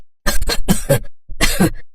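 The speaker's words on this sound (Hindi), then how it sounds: "थोड़ी सी खांसी है बस" Several harsh coughs close up, a quick burst of three followed by a short gap and another rough cough.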